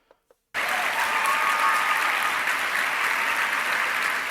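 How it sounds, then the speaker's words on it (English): A large crowd bursts into loud, sustained clapping after a brief near-silence with two small taps, holding a dense, even roar of applause to the end. "Especially after a giant crowd claps about it."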